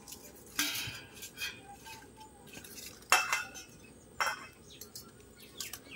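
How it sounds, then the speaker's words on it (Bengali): Shrimp being cut in a home kitchen, heard as a few sharp, scraping knife strokes against a dish or board, spaced out over quiet room tone with faint birdsong in the background. "চিংড়ি মাছ, এখন আমি কাটছি।"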